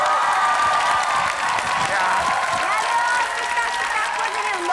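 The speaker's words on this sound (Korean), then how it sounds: "여러분 박수로 맞아주십시오" A studio audience on a KBS Korean quiz show claps and cheers steadily to welcome a guest, with a few whoops rising in the crowd noise.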